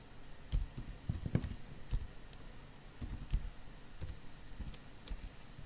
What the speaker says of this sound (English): so let's type in the address